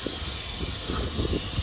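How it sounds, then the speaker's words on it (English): Aerosol spray hissing steadily onto a Vauxhall Omega oil filter housing during an oil change, a continuous close hiss with light handling clatter underneath. "Give it a quick spray off with some"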